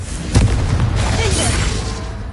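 A Confringo fire spell explodes in a video game, a single loud boom near the start that leaves a rumbling, crackling roar for the rest of the clip.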